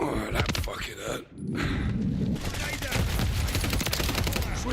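Call of Duty Modern Warfare III multiplayer on the Tokyo map with heavy gunfire: loud overlapping shots and bursts that keep going almost nonstop, broken by one brief lull, with footsteps and movement mixed in.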